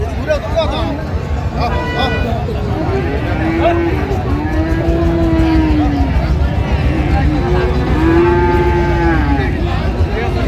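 Friesian and crossbred bull calves moo loudly and repeatedly at a busy cattle market in Dinajpur, with several drawn-out calls close by over constant crowd chatter and people talking.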